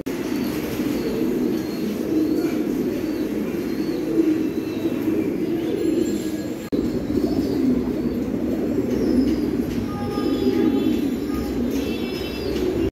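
A flock of Andalusian pigeons coos at a pigeon farm, a steady low murmuring drone with occasional soft chirps and wing flutters, loud and close throughout.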